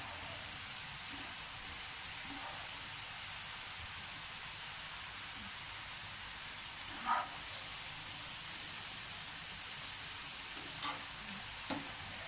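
French fries deep-fry toward golden in hot oil, giving a soft, continuous hissing sizzle that stays fairly quiet and steady. Occasional faint taps and clinks of a utensil sound over it, with no speech.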